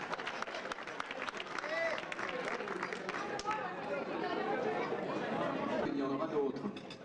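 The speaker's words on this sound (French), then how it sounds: "on applaudit tout le monde, c'est fini" Scattered clapping from a party crowd at a friendship festival, mixed with chatter and voices, quiet and somewhat distant, swelling slightly toward the end.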